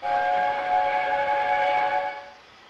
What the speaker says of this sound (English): Whose whistle was that?